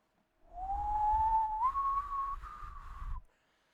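A single sustained whistle, an imitation of the death whistle from Puss in Boots: The Last Wish, rises slowly and holds a thin, wavering pitch for about three seconds over faint breath noise.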